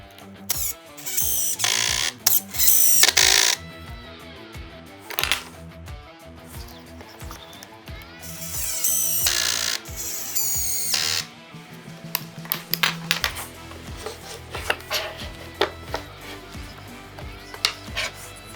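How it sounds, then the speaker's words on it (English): Power drill driving screws through pocket holes from the backside of a midsize wooden workbench, heard as several loud whirring bursts of varying length with rattling workshop handling noise between them. "screws are still going in from the backside"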